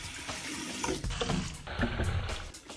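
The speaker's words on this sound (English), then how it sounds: "let's wash our hands first" Water runs from a tap as hands are washed at a sink after working with green clay, a close, continuous splashing stream with uneven gurgles and no talking.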